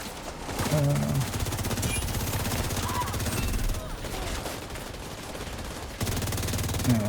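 Turrets in a video game fire steady rapid bursts of gunfire that stay loud and close throughout, with a voice talking briefly over the shooting.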